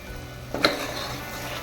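Masala for mutton paya frying in oil in a pan, a steady low sizzle with a brief stirring scrape near the middle, close and moderately quiet, no talk.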